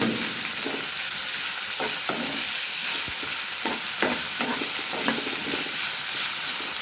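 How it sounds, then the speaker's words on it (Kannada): Onions and chillies sautéing in hot oil in a pan for a potato palya, stirred with a spoon: close, continuous sizzle with repeated scraping strokes of the spoon, and no talking. "ಬಾಡಿಸ್ತಾ ಇರಬೇಕು ಈರುಳ್ಳಿ ಮತ್ತು ಮೆಣಸಿನಕಾಯಿ"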